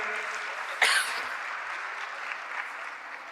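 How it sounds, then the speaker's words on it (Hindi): An audience applauds steadily to welcome guests at a Brahma Kumaris students' congregation. A single sharp cough or throat-clear cuts through early on, and then the clapping carries on at an even level. "तालियों से उनका अभिनंदन स्वागत करिए।"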